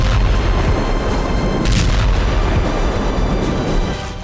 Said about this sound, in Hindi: खेरसोन के राइट बैंक पर लगातार धमाके, आग की लपटें और मलबे के सैकड़ों मीटर ऊंचे गुबार उठते नजर आ रहे हैं।